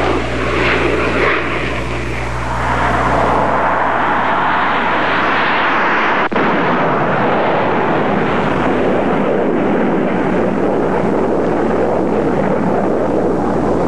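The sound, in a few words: RF-4C reconnaissance jet aircraft flying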